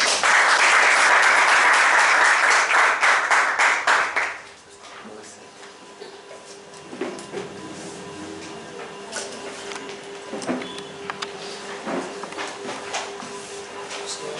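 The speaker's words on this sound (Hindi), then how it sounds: "परमेश्वर के लिए तालियां बजा सकते हैं।" Loud, dense clapping from a large church congregation for several seconds, then it stops abruptly, leaving faint room noise and scattered soft sounds.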